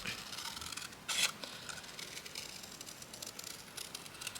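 Scissors cut out a paper figure for a handmade masterboard craft: faint, close snipping and paper rustling, with one sharper cut standing out, and no talking.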